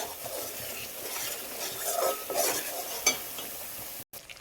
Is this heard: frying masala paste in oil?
yes